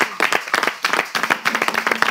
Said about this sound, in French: J'aimerais quand même qu'on applaudisse tous les animateurs